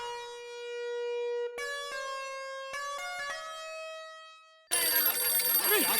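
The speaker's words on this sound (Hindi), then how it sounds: "ये फोन है मतलब मेरा फोन है, फोन आया है" A mobile phone rings with an incoming call, a clear electronic melody of pure chiming tones playing alone, then cut off by a burst of broader noise near the end.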